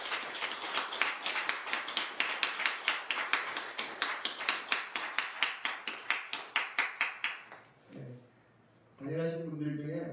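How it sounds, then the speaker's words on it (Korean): A church congregation clapping together in a steady, rhythmic beat for several seconds, each clap crisp and evenly spaced, fading out before a voice begins speaking. "그분들께 살아계시든지 지금 여기 계시든지 박수 한번 쳐주십시다."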